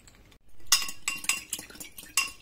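A spoon stirs potato starch and water together in a bowl, giving a run of close, bright clinks and scrapes against the bowl's side after a brief quiet start.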